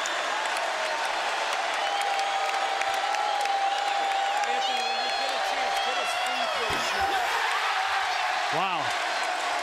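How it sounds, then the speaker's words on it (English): Applause and cheering swell from the crowd at a Marquette at Seton Hall college basketball game as a player checks in, a loud, continuous roar of clapping with some whoops mixed in. "Shavar Reynolds is getting a big hand when he enters the game here."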